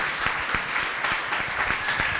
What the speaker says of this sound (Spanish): Podría glorificar el nombre de Dios con un fuerte aplauso